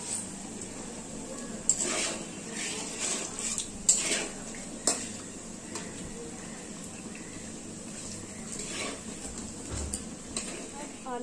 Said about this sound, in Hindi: आलू का पकौड़ा का बाद अब हम लोग इसमें बैटर में बैगन देकर बैटर को अब तेल में इसको देंगे